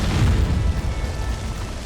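Bombs go off during a raid on a base in the Conan Exiles game, a loud, heavy boom with a rumbling tail that fades over about two seconds.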